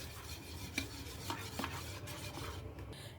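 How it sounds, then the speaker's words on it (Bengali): Rice flour and milk being stirred into payesh in a pot, soft repeated scraping and spoon-against-metal clinks with a faint simmer beneath, close and quiet, no talk. "এবার সুন্দর করে চালের গুঁড়ো আর দুধটা সুন্দর করে মেশাতে হবে"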